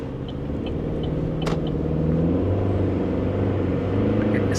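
An old, cheap pizza-delivery car idling with an engine fault, its motor giving a low rumbling drone that rises and falls slightly as the revs surge, close and steady throughout.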